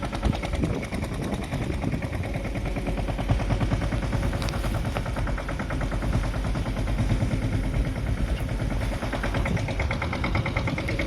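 A tractor engine runs close by in a groundnut field with a loud, rapid, steady chugging throb that continues unbroken throughout.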